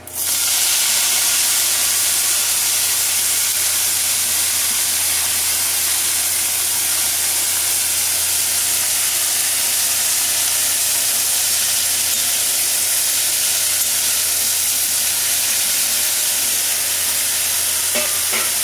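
Uchhe shak greens sizzle steadily in hot oil with a tempering of spices, a loud continuous frying hiss and crackle that holds from start to finish with no voices.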